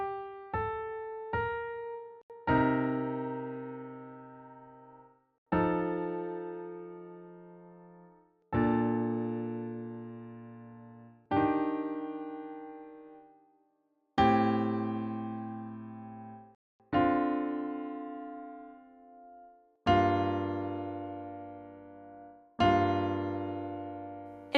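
Jazz piano playing a tune in two-note chords of thirds and sevenths, heard as a few quick opening notes and then slow, ringing chords struck every few seconds, each decaying cleanly and played alone.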